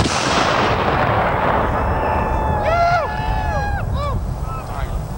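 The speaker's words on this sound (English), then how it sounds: "Big one for Jeff Davis. Fire!" A Civil War artillery cannon fires at a living history reenactment at Endview Plantation, one loud outdoor blast followed by a long rumbling roar and wind noise, with faint whistling tones drifting over it.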